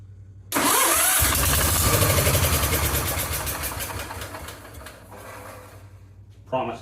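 Kohler K-Series small engine cranking with the choke on, a loud rapid chugging that catches and runs rough, fading unevenly, with a person talking near the end.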